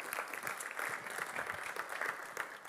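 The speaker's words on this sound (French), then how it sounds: "On applaudit." A colloquium audience gives a short round of applause, steady crowd clapping heard fairly close and sustained throughout without speech.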